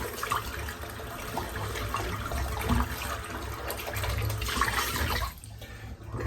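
Water running steadily while a shaving brush is rinsed of hard shaving soap, a continuous splashing flow from a tap or sink, cutting off briefly near the end before resuming.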